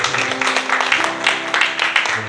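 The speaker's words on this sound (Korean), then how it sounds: "우리 하나님께 영광의 박수 올려드리겠습니다." A high-school youth congregation at a church service applauds together after a closing prayer, producing steady, moderately loud clapping that carries on through the short clip beneath a low background hum.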